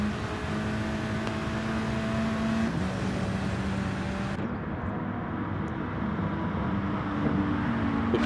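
Lamborghini race car in a racing video game at Sainte Croix, its engine droning steadily with sustained tonal whine shifting pitch through gear changes, a constant loud mechanical hum with no voices.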